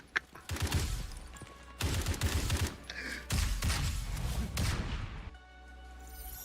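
Video game gunfire from a tiny pistol: loud, dense bursts of rapid shots in several long volleys separated by brief gaps, ending in a quieter mechanical tail.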